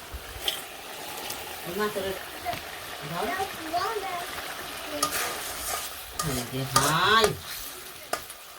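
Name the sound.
fish frying in a pan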